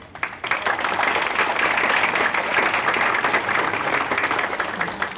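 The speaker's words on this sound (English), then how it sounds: "So let's give her a round of applause." Audience applause at a university evening lecture event, a dense steady wash of many hands clapping at close range, continuous for several seconds with no voices over it.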